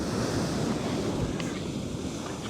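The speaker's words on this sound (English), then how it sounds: "Basically it's just waves coming in, and there's gaps underneath the lava here" Waves surging in and rushing through gaps beneath a lava rock shoreline on Savai'i, Samoa: a continuous broad roar of surf and churning water, with wind buffeting the microphone and no talking.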